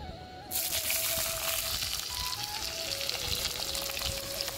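Two onions drop into hot oil in a pan, setting off a sudden loud sizzle that holds as a steady frying hiss, with a thin tonal hum running underneath.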